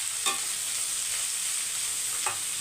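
Ridge gourd pieces with tamarind sauté in a pan, a steady low sizzle with a couple of brief stirring scrapes, close and even, no voices present.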